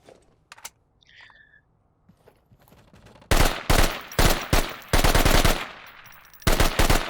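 Volk rifle fire in a video game at a slow fire rate: staggered bursts of loud, sharp shots come in short rhythmic clusters after a quiet opening with faint clicks and handling noise.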